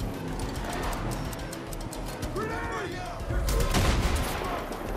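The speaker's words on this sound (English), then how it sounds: "I don't like machine guns." Machine gun fire and gunshots crackle in Far Cry 5 gameplay, rapid bursts that grow louder near the end, mixed with game sounds while a player talks over them.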